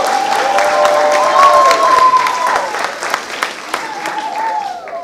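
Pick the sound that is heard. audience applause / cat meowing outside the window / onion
audience applause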